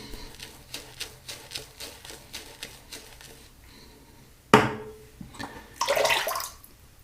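Water runs and splashes during a rinse while shaving, with brief bursts of flow and splashing that stand out against a faint tapping background.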